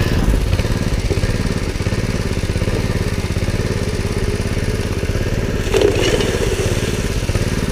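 A gold prospecting high-banking pump's small engine with a carburetor in need of rebuilding runs rough, a loud continuous chugging drone with uneven pulsing throughout.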